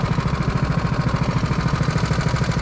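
A racing kart engine runs close and loud at a steady pulsing throb, its rapid rhythmic firing beats holding even for a few seconds.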